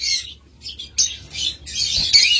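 Albino lovebirds in a breeding pair chirp in quick high bursts, a string of bright tweets and squawks with short gaps, close and fairly loud with no talking.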